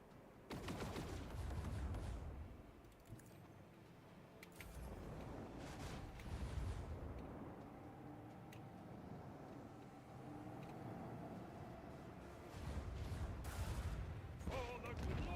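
Torpedoes fire during a space battle in the Rogue Trader video game, a quiet run of repeated booming launches and crackling impacts spread over several seconds, with no speech.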